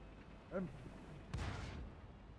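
A tier 8 tank's main cannon fires once with a heavy boom in a tank battle game, its blast tailing off into a rumble after a brief earlier tone.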